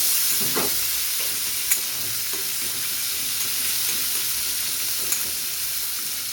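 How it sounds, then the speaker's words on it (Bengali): Chopped onions and raw peanuts fry together in a pan for a Bengali Mughlai recipe, giving a steady close sizzle with scraping stirs and a couple of sharp utensil clicks against the pan. "কাঁচা বাদাম সমেত পেঁয়াজটাকে ভাজবো"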